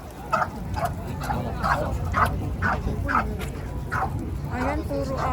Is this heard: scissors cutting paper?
no